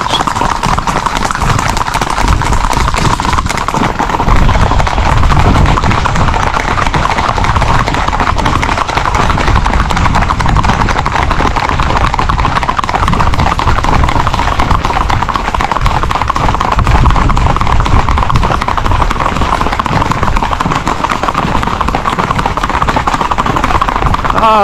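A horse's hooves clip-clop steadily on hard ground in a lively neighborhood setting, a continuous loud rhythm of shod footfalls with crowd noise and occasional distant voices underneath.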